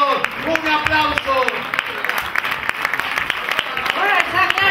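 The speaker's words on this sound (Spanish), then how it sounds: "¡Un aplauso!" A theater audience at a carnival comparsa contest in Serón applauds, with dense, sharp clapping, cheers and shouts throughout, loud and close.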